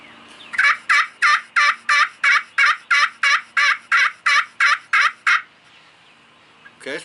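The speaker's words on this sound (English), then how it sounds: "it's a pretty good yelp. I like that yelp." Fourteen evenly spaced, raspy turkey yelps from a straight-cut Osage wood friction call with a dyed stabilized top, loud and close in a steady rhythm, then quiet.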